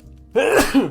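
A single close, sharp human sneeze with a quick inhaled lead-in and a short explosive burst, loud against quiet room tone.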